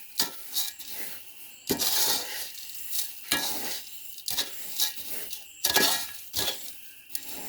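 A spoon scrapes and stirs a thick peanut mixture in a pan, with sharp metallic clinks in an irregular rhythm, close up and without talk.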